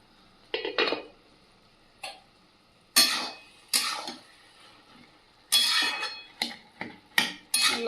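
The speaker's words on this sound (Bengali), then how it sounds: "ঢাকনাটা খুলে দেখে নেবো" Metal clanks of a cooking pot lid being lifted and set down in a home kitchen, several sharp close clatters spaced irregularly, with no talking.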